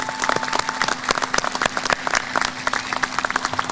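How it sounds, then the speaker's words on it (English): Crowd applause fills a high school graduation ceremony held in an athletic venue converted for commencement, with dense, steady clapping from many hands throughout, lively and close, with no talk over it. "Let's give them all a round of applause"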